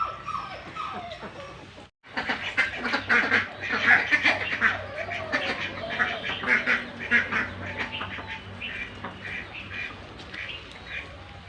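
Ducks quack repeatedly in a busy, overlapping stream after a brief pause, fairly close and loud, with other farmyard birds calling faintly underneath.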